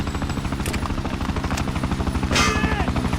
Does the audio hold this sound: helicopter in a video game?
yes